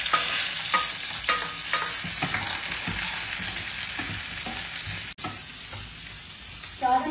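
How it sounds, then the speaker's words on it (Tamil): Finely chopped small onions (shallots) fry in hot oil for mutton fry, a steady loud sizzle with stirring scrapes throughout, briefly interrupted near the end. "ஒரு 15 சின்ன வெங்காயம் பொடியா நறுக்கி வச்சிருக்கேன். அந்த 15 சின்ன வெங்காயத்தை சேர்த்துக்கலாம்."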